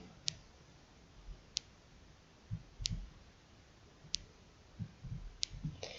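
Faint, sharp computer clicks from copying and pasting C code, about five crisp ticks spaced roughly a second apart over a quiet room background with soft low bumps.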